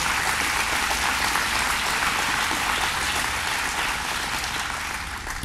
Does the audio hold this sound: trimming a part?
no